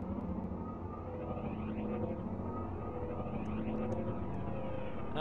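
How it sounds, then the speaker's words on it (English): In the Arma video game, a hostile aircraft drones overhead as a steady, moderately loud engine roar that holds level throughout, with a few faint high chirps near the end. "Hostile aircraft above us."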